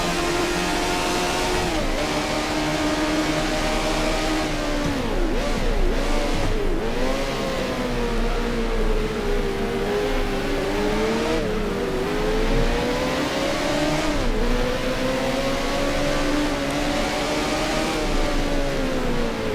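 Ground-effect Formula 1 race cars of the 1978 season in the F1 Challenge racing game, engines screaming at full throttle with rising and dipping revs through gear changes, loud and continuous with no talk.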